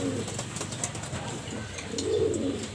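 Racing pigeons coo steadily close by, with low, rolling calls that swell near the end over a constant background hum.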